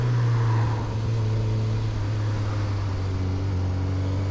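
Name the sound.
Suzuki GSX-S1000 motorcycle downshifting with quick shifter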